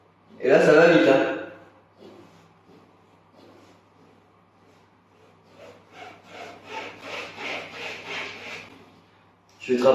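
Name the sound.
wire saw cutting PVC pipe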